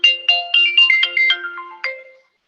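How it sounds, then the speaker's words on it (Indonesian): A mobile phone ringtone plays a loud, close, bright electronic melody of about a dozen quick notes, ending abruptly into silence. "HP Bapak bunyi."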